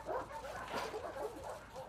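A dog barks and whimpers in a kennel in The Last of Us Part 2, short yips and bow-wows close by over steady game ambience.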